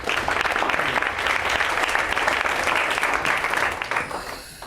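Audience applause at a talk on verbal judo and defusing conflict through conversation, a dense, loud wash of clapping that holds steady, then thins and fades near the end.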